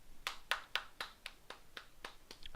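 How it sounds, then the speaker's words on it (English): A person claps hands about ten times at a steady, fairly quick pace, crisp and close, with each clap standing out sharply against a quiet background and no talking. "I'm clapping for you guys."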